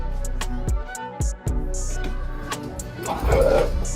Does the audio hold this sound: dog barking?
yes